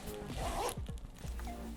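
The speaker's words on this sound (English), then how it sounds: "we've got another zipper mesh pocket in here, right? With a nice little handy dandy zipper" The small zipper on a mesh pocket inside an everyday carry bag is pulled in a quick series of short rasping strokes, fairly quiet and up close.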